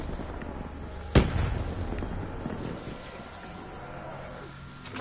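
A sudden explosion in Call of Duty Black Ops 3 bursts out once, loud and close, then trails into a rumbling decay over a busy game background.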